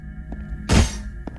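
A sword slash strikes an object in the video game Hyper Light Drifter, giving one sharp, loud crunching impact with a brief shattering edge, plus faint softer ticks before and after, with no talk over it.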